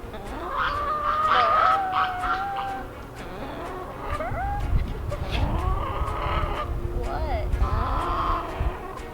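Chickens cluck and squawk in a busy, continuous chatter, several birds close by, with occasional louder calls over a low outdoor rumble.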